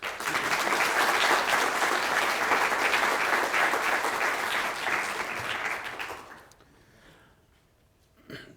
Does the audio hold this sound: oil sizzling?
no